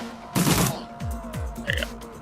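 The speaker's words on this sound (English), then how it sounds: "Burst fire." A short, loud burst of gunfire from the video game Shadowrun Returns, one quick volley early on, followed by quieter game tones and ambience.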